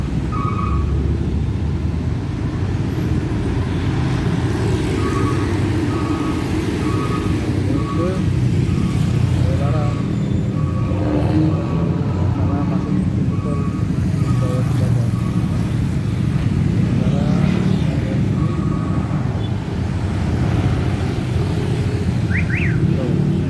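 Heavy road traffic at the Padalarang flyover junction in Bandung during a jam, with a steady engine rumble, passing cars and trucks, and a repeating car-alarm-like tone, continuous and loud throughout with voices mixed in.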